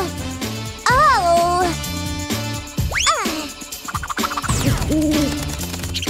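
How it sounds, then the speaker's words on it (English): An owl hoots in a children's cartoon, several sliding, playful calls mixed with springy boing effects and bright cartoon sounds. "Mice don't like owls."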